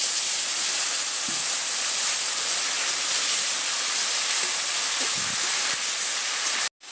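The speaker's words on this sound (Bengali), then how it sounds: "সামান্য একটু জল দিয়ে দেবো।" Pieces of taro frying in a pan hiss and sizzle loudly and steadily after a splash of water goes in, a dense, even seething sound with faint clinks underneath, cutting off abruptly just before the end.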